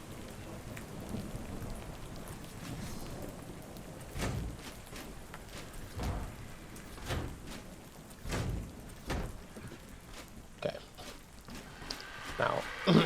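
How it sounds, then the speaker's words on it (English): Steady rain pours and patters in a survival video game, ARK Survival Ascended, with low thunder rumbles rolling through and a few sharper knocks near the end, a voice talking over it. "if I had been quick enough during that rain there"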